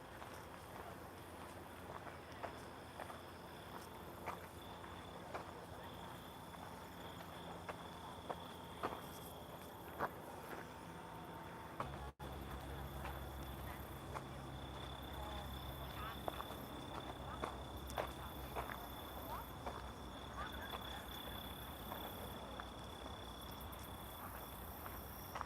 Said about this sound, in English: I love the sound of these crickets